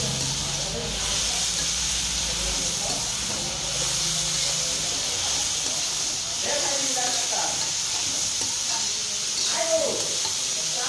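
Onions and mixed vegetables fry in a pan with a steady hiss and sizzle, joined by occasional stirring scrapes and light clatter.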